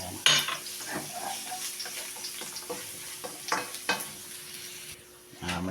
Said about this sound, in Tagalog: Brown na natin itong bawang.